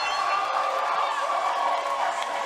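A boxing arena crowd cheers for Charlo with a steady, dense roar and indistinct shouting that carries through the whole stretch.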